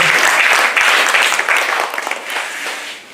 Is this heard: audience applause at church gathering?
yes